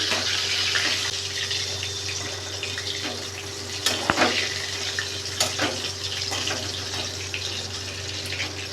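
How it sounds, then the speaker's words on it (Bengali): Katla fish pieces fry in hot oil, giving a steady close hiss with scattered crackles and a sharper pop midway, with no talking. "দেখুন মাছগুলো ভাজা ভাজা হয়ে গেছে"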